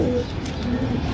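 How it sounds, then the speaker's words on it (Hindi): A young Indian pigeon coos softly in a short, low, steady phrase, close by and alone. "इह देखो जी इंडियन कबूतर, सुरखा इंडियन कबूतर"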